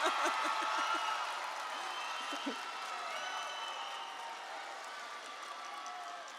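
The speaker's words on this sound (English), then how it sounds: "Clap it up one more time for the graduates" Audience applause for graduates at a commencement ceremony rolls on as a steady, moderately distant wash of clapping with a few cheers, gradually easing off.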